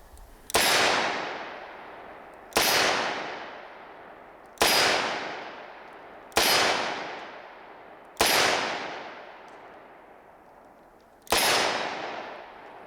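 A Smith & Wesson Performance Center Model 19 Carry Comp revolver fires six loud, sharp shots at steady intervals of about two seconds, each crack followed by a long, ringing decay.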